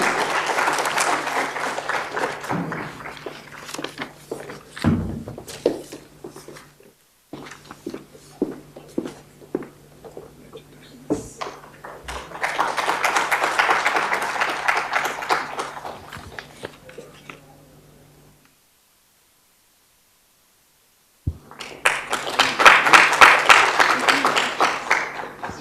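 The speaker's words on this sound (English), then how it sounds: "A round of applause for TransUnion Civil Limited." Audience applause at an IT awards ceremony, two long bursts of hall clapping separated by quieter stretches with scattered claps, footsteps and a short silent gap.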